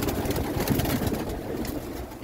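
Pigeons coo inside a breeding loft, soft low cooing close by with a few rustles, fairly loud and without talk.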